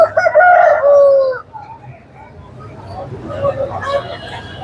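A large, heavy aseel rooster at a poultry market gives a loud, close crow that opens the moment and then fades, followed by people talking and faint market bustle.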